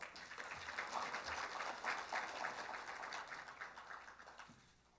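Applause from the audience at a software industry protection awards ceremony as a prize winner is called up, steady dense clapping lasting several seconds before fading out, with no voices over it.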